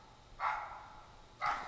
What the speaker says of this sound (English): It's my dog over there, so he's barking at a squirrel, I'm sure.